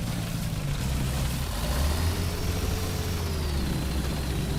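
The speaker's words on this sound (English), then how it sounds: "new M60 engine sounds are actually kind of cool." A low, steady tank engine rumble from an M60 tank in the video game War Thunder drones continuously with a faint rising whine above it, loud and close, with no talking.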